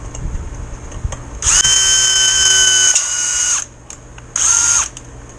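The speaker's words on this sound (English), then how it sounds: "I'm going to hold this and drill." Close, loud power drill boring through an R4 FE rigger frame during kit assembly, whining steadily for about two seconds, then a short pause and a second brief burst; no talking.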